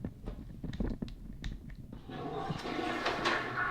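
A household toilet flushing in a clean bathroom of a newly bought house, a broad rushing swell of water that rises after some knocks and handling noises and continues steadily to the end, close by.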